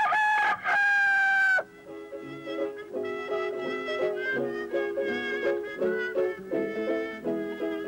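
A rooster crows loudly and clearly up close, and then a chicken clucks in a rapid, uneven run of calls that continues for several seconds with no talk.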